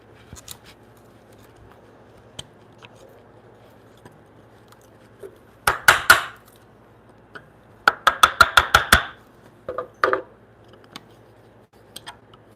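A sharp chisel cuts a brace pocket in a timber frame, with two clusters of crisp, rapid woody chops and a few isolated taps, close and distinct in an otherwise quiet workshop.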